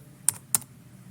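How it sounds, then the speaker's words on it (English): Two quick, quiet keystrokes on a computer keyboard while a web address is typed into a browser, sharp clicks close together over a faint background hum. "Type padlet.com in the web browser's URL bar."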